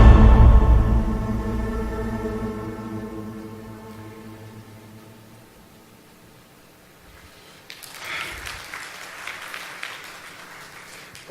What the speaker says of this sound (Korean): 교수님을 큰 박수로 환영해 주시기 바랍니다